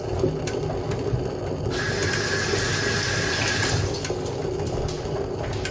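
Tap water runs loudly and continuously as something is rinsed beneath it, with a steady rushing hiss and some clattering, close and with no talking.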